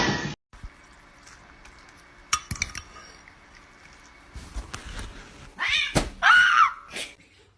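A cat that has jumped into a van gives a short, high meow near the end, after scattered clinks and knocks in an otherwise quiet space.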